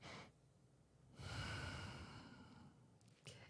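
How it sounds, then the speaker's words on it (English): A deep breath drawn in and let out: a short breathy sound, a pause, then a longer, louder airy exhale that tapers off, followed by a brief final puff, close to the mic. "Take a deep breath. Breathe it in,"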